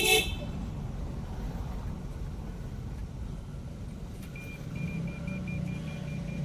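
A car horn toots briefly at the start, then a vehicle engine rumbles steadily in a narrow, pothole-strewn village lane near a school, with a faint, repeating electronic beep in the latter half; no talking.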